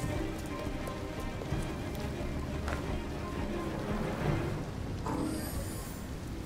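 Steady rain falls in the video game Detroit: Become Human, a dense, even hiss of drops on surfaces lasting throughout, with no voices over it.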